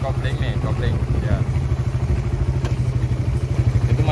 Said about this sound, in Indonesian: kalau nurun gigi sering ada suara kasar ya, kletak-kletak-kletak gitu loh